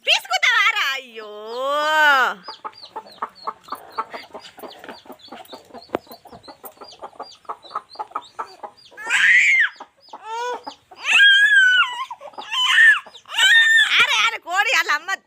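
A hen clucks and squawks loudly near a brood of chicks, whose rapid high peeping fills the middle stretch, with agitated hen calls returning in bursts while people talk nearby.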